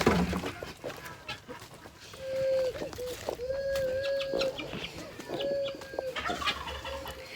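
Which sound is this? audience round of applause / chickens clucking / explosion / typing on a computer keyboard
chickens clucking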